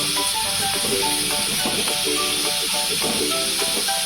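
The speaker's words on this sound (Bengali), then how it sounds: "এখন এটাকে ভেজে নেব লাল লাল করে।" Marinated prawns with a little lemon juice fry in hot oil, giving a loud, steady sizzle throughout with faint tonal sounds underneath.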